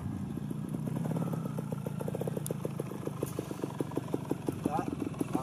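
A trial motorcycle putters along at low revs with a steady, even firing rhythm that rises a little toward the end, while someone speaks in French over it.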